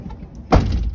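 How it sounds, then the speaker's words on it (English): A truck cab door swings shut with a single heavy, close thunk midway through, followed by a short low rumble inside the cab. "Shut my door."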